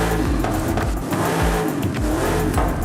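Supercharged V8 car engine in Forza Horizon 5, loud and close, revving in repeated rising sweeps with a throaty, continuous roar.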